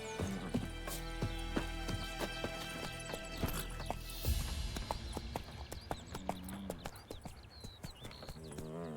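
Horse hooves clip-clop in a galloping rhythm in the video game The Witcher 3: Wild Hunt, a steady run of sharp thuds with tack jingles and game ambience, moderately close and fairly quiet.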